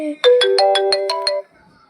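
A phone ringtone from the School Boy Runaway video game plays a short bright melody of about seven quick tones, loud and clean against near silence, then stops abruptly.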